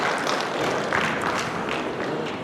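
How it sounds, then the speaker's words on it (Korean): Audience applause in a hall at the opening ceremony of a Sejong City commercial vacancy fair, honoring three presenters: a dense, steady wash of many hands clapping, sustained throughout with no speech over it. "그럼 우리 함께 해주신 세 분께 다시 한번 큰 박수 좀 부탁을 드리겠습니다"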